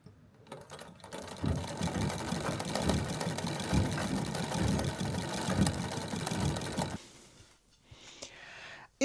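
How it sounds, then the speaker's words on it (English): A sewing machine stitches down a quilt in one steady, loud run of several seconds, its whirring motor rattling throughout, then stops, leaving quieter handling noises at the end. "I'm just stitching it down quickly"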